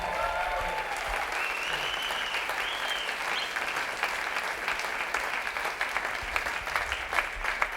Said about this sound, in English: Big round of applause for Eva.